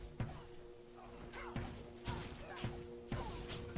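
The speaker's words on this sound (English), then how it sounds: "Just gonna throw out the explosion arrow here." An Amazon's explosion arrow in Diablo 2 lands with four dull thuds about half a second apart, each a low, punchy burst over a faint background hum.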